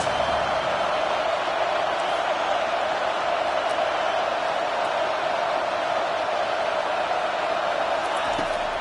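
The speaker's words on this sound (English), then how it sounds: "this crowd is making it miserable on this offense" Loud, steady roar of a college football stadium crowd on a fourth-down play, a dense wash of noise that stays constant throughout with no break.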